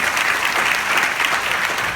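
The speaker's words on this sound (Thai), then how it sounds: "ปรบมือให้คุณพ่อคนด้วยค่ะ" Dense, steady applause from an audience gathered to honour a father who owns a hotel business on Khao San Road, an even wash of many clapping hands with no pause.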